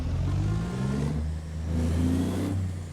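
A video game truck engine, modded American Truck Simulator, revs steadily and loud, its pitch climbing and settling as it accelerates, close and continuous with no voices.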